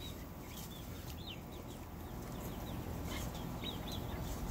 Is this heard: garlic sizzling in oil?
no